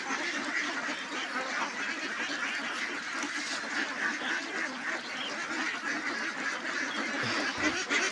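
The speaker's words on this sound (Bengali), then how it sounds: "সবগুলো হাঁস চলে আসতেছে" Many ducks quack continuously in a noisy flock being fed rice paddy, overlapping calls filling the scene at moderate distance.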